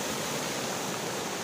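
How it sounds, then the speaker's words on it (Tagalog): Large waves churned up by the northeast monsoon surge and wash onto a black sand beach, a dense, steady roar of surf with no voices. "Tingnan nyo yung dagat, hindi maganda ngayon, ay dahil sa amihan. Ayan, medyo malaki ang alon."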